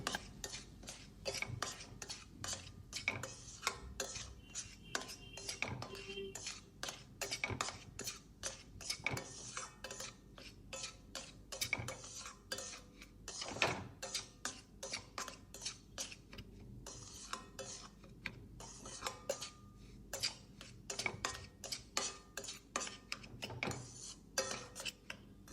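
Semolina (rava) roasting in ghee in a pan over a low flame for pineapple sheera, stirred with a spoon in a steady run of light metallic scrapes and clinks against the pan, close and fairly quiet with no voices.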